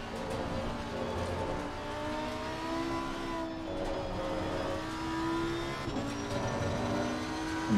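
Audi GT3 race car engine approaching in Assetto Corsa Competizione, a steady whining drone with rising and falling gear-change pitches, moderately faint and continuous, no talking.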